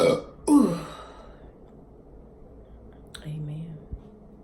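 A man lets out a short, loud burp at the start, while chatting casually over a meal-day routine, followed by a quiet stretch and a brief low rumble near the end.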